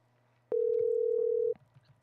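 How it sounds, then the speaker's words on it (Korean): A single steady telephone tone sounds for about one second while a phone call is being placed, clear and alone over a faint low hum, then stops abruptly. "전화 연결 제가 직접 전화를 해 보도록 하겠습니다."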